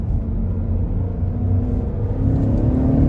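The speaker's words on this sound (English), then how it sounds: "I'm gonna put in second, give it some gas." A 2020 Cadillac Escalade ESV engine pulls hard in second gear, a loud, close, continuous low rumble and drone that climbs steadily in intensity over a few seconds, heard alone with no talking.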